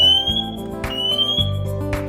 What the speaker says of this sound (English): Press and hold the test button until you hear the loud alarm.